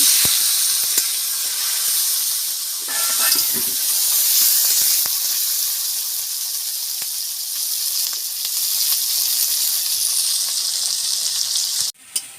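Bay leaf frying in hot oil for a Bengali cabbage curry, a loud continuous sizzle and hiss with occasional crackles and stirring scrapes, holding steady for about twelve seconds before a brief drop.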